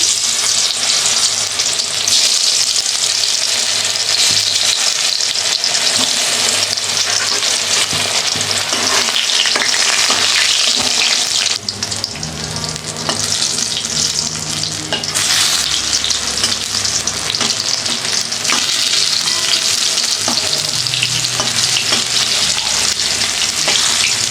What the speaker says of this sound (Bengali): তেল গরম হয়ে গেছে, দেখো বেগুনগুলো ছেড়ে দিলাম।